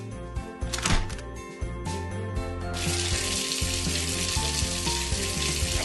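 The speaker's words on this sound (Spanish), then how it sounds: "Ahora vamos a llenarla con agua." Water rushing into a toy children's pool, starting with a few brief splashes and then settling into a steady, loud hissing pour that continues to the end, with toy music underneath.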